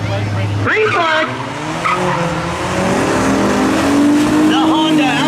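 Honda Accord and 2003 VW Passat launching off the line at a street-legal drag race, with loud engines roaring, rising revs and tyre squeal up close, under a commentator's voice.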